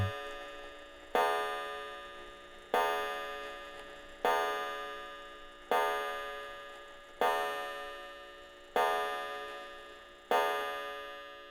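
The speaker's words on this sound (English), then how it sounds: "and then that'll be 12 o'clock" Antique clock at a folk park striking twelve, a steady series of bright metallic chimes spaced about a second and a half apart, each ringing out and decaying before the next, close and clear with no talking.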